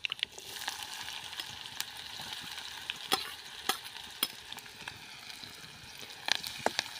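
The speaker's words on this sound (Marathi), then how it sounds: "कांदा देखील परतून घ्यायचा आहे" Onion sautés in oil in a pan after cumin and garlic, a steady close sizzle broken by frequent small crackles and pops with no talk.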